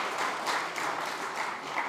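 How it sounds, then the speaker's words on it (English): An audience at a talk on farming and organic agriculture gives a brief round of applause, a soft, diffuse patter of many hands. "round of applause"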